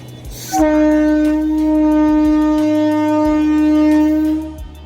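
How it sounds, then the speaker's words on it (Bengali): A passing train sounds a loud sustained horn blast of about four seconds, a strong steady tone that ends abruptly, with rumble and low background noise beneath it. "সাথে এই যে ট্রেনও চলে যাচ্ছে আর আমরাও চলে যাচ্ছি"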